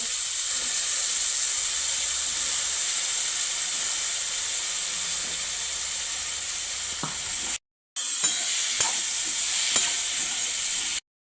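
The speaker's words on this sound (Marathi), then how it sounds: "बटाटे स्वच्छ धुवून घेतलेले होते कापून बारीक बारीक खापा करून. आणि आता टाकून देऊ राहिले." Thinly sliced potatoes sizzle in a pan for potato bhaji, a loud, steady frying hiss. It cuts out briefly near the end, then resumes with a few light stirring knocks.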